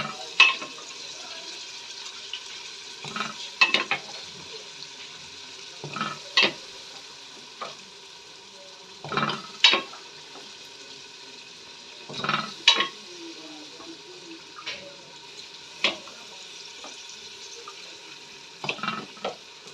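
Boiled mutton stirred into ghee-fried masala for nihari korma sizzles steadily in the pot, with repeated sharp scraping strokes of the spoon punctuating the frying hiss throughout.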